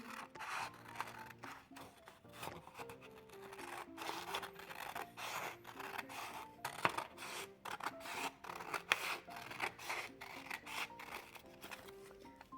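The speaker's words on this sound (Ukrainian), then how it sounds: "Беремо ножиці і перерізаємо навпіл. По лінії згину." Scissors cut a folded sheet of paper in half along the fold line, a run of soft, rhythmic snipping and rasping strokes close by at low level, heard alone.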